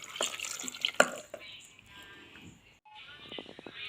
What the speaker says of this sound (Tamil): கொஞ்சமாக தண்ணி ஆட் பண்ணிக்கோங்க.